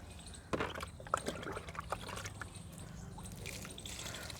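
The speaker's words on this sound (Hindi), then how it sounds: "और इसके बाद अब हम इसमें पानी डाल देंगे" Water is poured into a potted rose plant, with a splashy onset followed by a soft, steady trickle and a few drips, faint and close.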